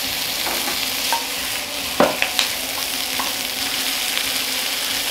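Spring onions stir-frying in hot oil in a wok for chicken in yellow bean sauce, a loud steady sizzle with a few sharp clanks of a utensil against the pan.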